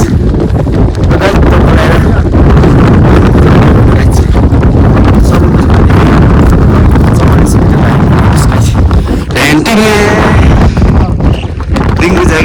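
Loud, constant mountain wind on the Everest Base Camp trek near Dingboche roars and batters the microphone, with occasional harsh gusts and a voice faintly audible under the noise.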